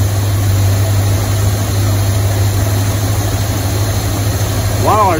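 A car engine fitted with a Quadrajet carburetor runs at a high idle of about 1100 RPM with the choke still on. The steady, droning hum stays close and constant throughout.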